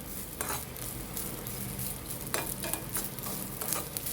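Grated coconut and vegetables stir-frying and sizzling in a pan, a steady close hiss broken by a few scraping stirs, with no talk.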